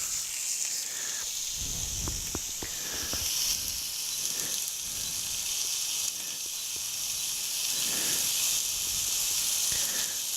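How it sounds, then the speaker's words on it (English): A sous vide burger sears in smoking hot oil in a pan, giving a continuous bright hiss and sizzle with a few soft pops and crackles throughout. "Hear that nice little sizzle?"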